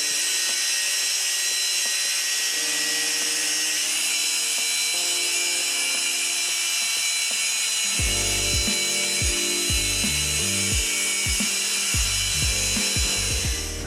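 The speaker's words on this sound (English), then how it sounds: "Back out with a hex polisher." A hex polisher buffs car trim on a BMW or Audi, a steady machine whir that shifts into a lower, pulsing buzzing tone partway through, close and continuous.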